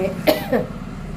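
A single sharp cough rings out close by, followed a moment later by a second, softer cough, with no talking around them.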